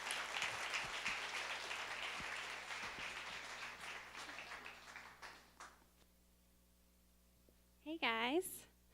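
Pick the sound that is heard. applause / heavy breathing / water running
applause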